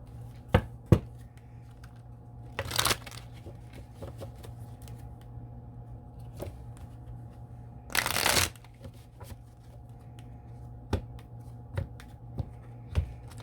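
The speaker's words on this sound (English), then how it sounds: "We'll shuffle the cards and see if we can get a description" Cards are riffled and shuffled in two quick bursts, with soft scattered clicks and taps of handling in between, close and quiet.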